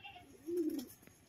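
A single low pigeon coo, close and fairly soft, rising briefly in the middle of a quiet moment; the bird is a show-quality pigeon whose beak is slightly bent after pox.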